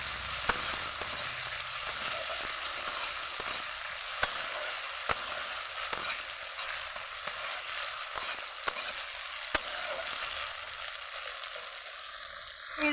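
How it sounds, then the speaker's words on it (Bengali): Bitter gourd fries in a pan with ground green chilli, garlic and fennel paste, a steady close sizzle with a few sharp spatula taps on the pan throughout. "ভেজে নেব ওগুলোকে।"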